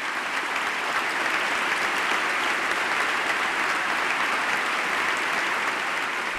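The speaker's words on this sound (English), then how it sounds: "Three straight minutes of applause from both sides of the aisle." Sustained, dense applause from lawmakers giving a bipartisan standing ovation at a special joint session of Congress, steady and even throughout with no voices rising above it.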